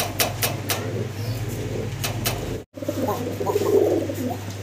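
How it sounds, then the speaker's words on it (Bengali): A pair of Indian lotan pigeons coo softly in repeated, rolling calls over a low background hum, with a short break partway through. "খুব সুন্দর ডাকতেছে এক পেয়ার, আমরা কি দেখতেছি? এটা ইন্ডিয়ান নোটন কবুতর।"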